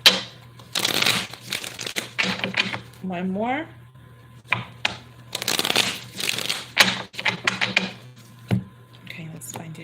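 Tarot cards shuffled by hand in repeated bursts of riffling and slapping between stretches of a person talking nearby.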